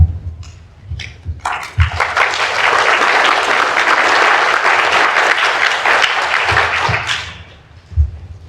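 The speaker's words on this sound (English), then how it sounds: "Was that clapping for me?" An audience at an art history panel discussion breaks into clapping, a few scattered claps and thumps building into several seconds of full, steady applause before tapering off to isolated knocks.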